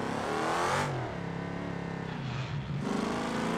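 Cars in BeamNG.drive video game traffic roar past with loud, sustained engine revving and accelerating, one engine note fading out as another surges in close by, with no talk.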